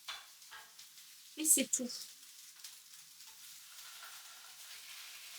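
Pieces of salmon fry skin side down in a pan alongside shallot, a quiet sizzle under a short spoken phrase, with a sharper burst of hissing and clatter as they go in.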